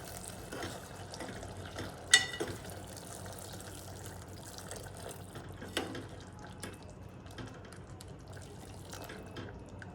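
Hot water is poured from a vessel into a simmering brinjal and potato curry, a faint, soft liquid trickle with scattered drips and a couple of small clinks against a quiet kitchen background.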